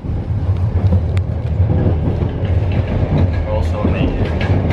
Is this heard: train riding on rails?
yes